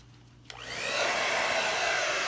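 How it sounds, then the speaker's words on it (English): A small handheld blow dryer switches on after a brief click and settles into a steady, loud, close whooshing whir of air that keeps running without a break. "I'm going to blow it with my little blow dryer"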